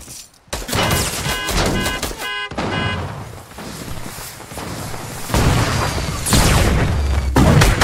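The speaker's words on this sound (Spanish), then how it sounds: "me dieron un disparo en la cabeza" Bursts of gunfire from the video game Fortnite, with rapid volleys and heavy booming shots crowding one another at close range and loud throughout, as chaotic battle sounds build over the whole stretch.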